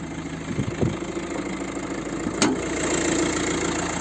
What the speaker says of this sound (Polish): Pracuje ten motor.